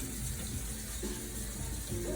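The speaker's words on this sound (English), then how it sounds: "We're gonna rinse it now in cold water." Cold tap water runs steadily over fresh garden basil being rinsed, a continuous splashing gush with small shifts as the leaves move under the stream.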